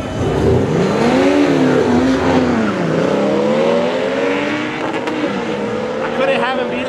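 A Subaru drag car at a drag strip race night revs hard before launch, its engine note climbing and falling in loud sweeping pitches held near 4,500 rpm, with crowd voices and commentary mixed underneath.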